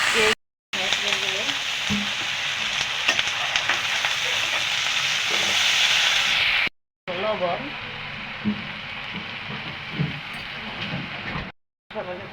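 Onion, ginger and garlic sizzle steadily in a hot pan for a spinach and fish curry. The frying hiss is dense and continuous, broken by two short silences, with faint stirring under it.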